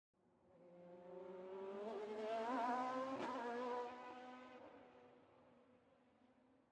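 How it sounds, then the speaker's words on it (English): A touring car on an onboard lap of Interlagos in a racing game, the engine note climbing steadily through the revs, swelling to a peak with a sharp click near the middle, then fading away. "we'll take an onboard view of the Autodromo Jose Carlos Pache at the wheel of a touring car"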